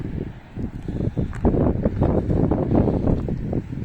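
Gusty wind buffets the microphone at a seaside campervan spot in Santa Pola, with low rumbling bursts that rise and fall in uneven waves, close and fairly loud, no voices.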